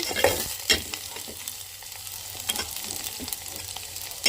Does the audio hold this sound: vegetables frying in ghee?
yes